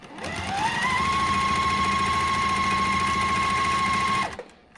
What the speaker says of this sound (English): So then we're going to stitch right on that drawn line.